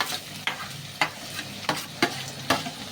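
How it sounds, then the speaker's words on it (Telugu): Finely chopped onions fry in hot oil in a pan for an egg omelette gravy, a steady close sizzle broken by about six sharp scraping stirs at roughly half-second intervals. "ఇప్పుడు ఇందులో ఇట్లా సన్నగా తరిగిన ఉల్లిపాయలు వేసుకుంటున్నాను."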